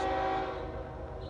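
CSX freight tank train with three lead locomotives and three distributed power units, two trains combined, passing close and loud: a steady rumble with droning horn-like tones and no voices.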